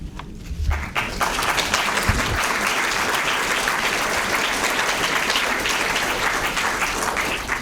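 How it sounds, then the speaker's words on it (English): An audience breaks into loud, sustained applause after a poetry reading at a book festival, the clapping swelling quickly and holding as a dense, even roar of many hands. "Well, I like that applause just then"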